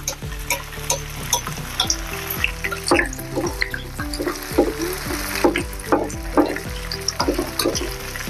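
A potato and rice flour snack fries in hot oil in a kadhai, a continuous bubbling sizzle with a rhythm of repeated spoon scrapes and splashes as oil is ladled over, close and fairly loud.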